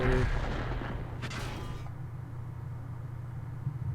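Heavy artillery fire in the World of Tanks Frontline mode booms loud and close, a deep rumbling blast with a sharp crack near the start that then decays into a sustained low roar, with no talking.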